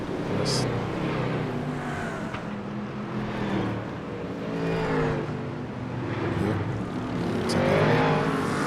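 GT3 race cars roaring through the start of a race at Laguna Seca, engines droning steadily with rising and falling pitch as the pack passes, loud and continuous throughout.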